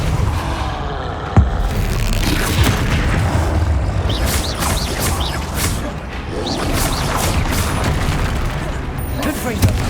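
Repeated booming blasts and crashes from a Confringo fire spell in Hogwarts Legacy, loud and close amid whooshes and combat noise, with a voice talking over the fight.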